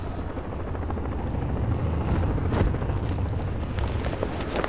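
A serpent drone from Batman: Arkham Knight flies with a dense, continuous rotor-like rumble that stays loud and steady throughout, with a few faint clicks and scrapes over it and no talk.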